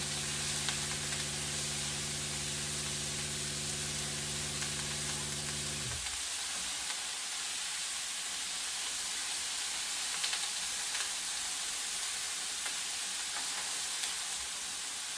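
Shredded green cabbage and egg sizzle and fry steadily in a hot pan as they are stirred, a dense hiss with a low pulsing hum for the first few seconds, then frying alone at moderate loudness.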